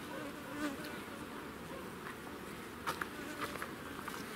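Bees buzz steadily around the listener at an apiary, a close droning hum with occasional louder passes and small clicks.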